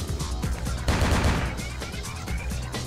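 Gunfire in the video game Vampire The Masquerade Bloodlines, a burst of loud shots over about three seconds with one denser volley in the middle, ringing with no voices.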